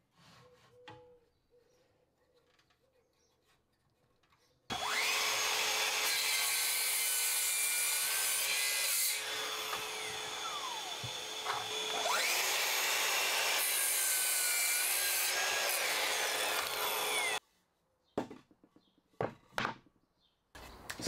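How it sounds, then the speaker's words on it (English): A mitre saw set at 15 degrees cuts wooden table legs for a portable sheet-goods cutting platform: a loud, close, sustained whining saw run of about thirteen seconds, with small knocks and handling clatter before and after it. "I'm going to set the mitre saw at a 15 degree angle, set up a stop block and get four legs cut to the same size."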